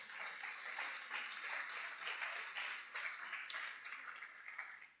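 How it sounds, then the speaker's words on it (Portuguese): A church congregation applauds the Lord during a Portuguese-language sermon, a fairly faint, continuous patter of many hands clapping with slight swells, heard from a distance. "dê um aplauso ao Senhor."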